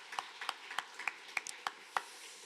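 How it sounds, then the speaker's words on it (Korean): Sparse, quiet hand claps sound at a church gathering to thank the worship singers, about nine distinct claps at an irregular, unhurried pace over a hushed room. "우리 수고해주신 그리고 찬양해주신 우리 이분들에게 감사의 박수 드리도록 하겠습니다"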